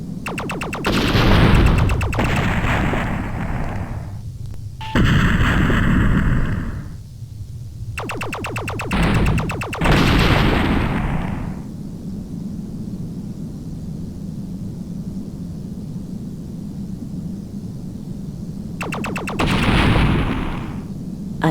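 Loud bursts of gunfire and booming explosions from the 3DO video game Shock Wave, several heavy blasts separated by stretches of steady engine rumble.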